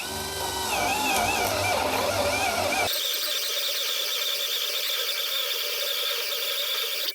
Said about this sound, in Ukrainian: 35-й форснер на другій швидкості.